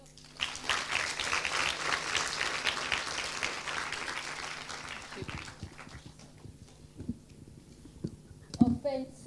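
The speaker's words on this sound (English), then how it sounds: "Round of applause" An audience applauding at a World Intellectual Property Day celebration, a burst of clapping over the first five seconds that fades into scattered claps, low murmurs and bumps.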